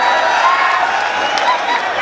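Crowd noise and applause fill a kabaddi quarterfinal between Haryana and Northern Railway Delhi after a super tackle, a steady dense roar with scattered cheers running loud and unbroken throughout.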